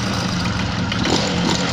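A water-cooled two-stroke Honda Dio scooter engine running just after kick-starting, a loud, close, steady idle drone with a slightly uneven buzzing texture throughout.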